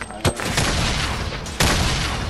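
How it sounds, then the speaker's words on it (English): Grenade launcher rounds fired and exploding in Fortnite Battle Royale, two sharp bursts over a dense, continuous wash of gunfire and game noise. "Just grenade launch everything"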